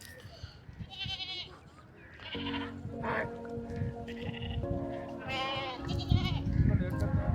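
Thirsty goats drinking water and bleating repeatedly at close to medium range. Several wavering bleats overlap, and someone speaks among them.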